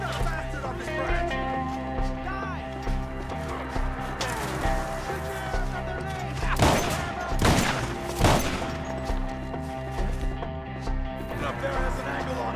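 Rapid gunfire bursts from a first-person shooter game rattle on through the stretch, with a few sharper, louder volleys near the middle, mixed with game music and effects.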